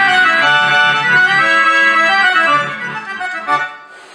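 An accordion plays a melodic line with one hand, sustained reedy notes moving in a steady phrase close up, fading and thinning out toward the end.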